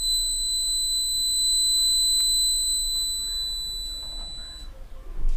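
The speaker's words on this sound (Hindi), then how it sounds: "जैसे बैटरी को लगाया वैसे बीप करने लगा" A homemade laser home security alarm circuit for a school science project, sounding a loud steady high electronic tone for several seconds before it stops, with faint handling noise underneath.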